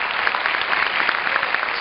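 Audience applause at an animation festival screening, a dense, even clatter of many hands clapping close by.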